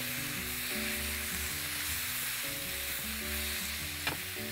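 Food sizzling in a pan while being stirred, with artichokes, cumin and lemon juice in the mix, steady close frying hiss with scraping stir sounds and a brief clink near the end.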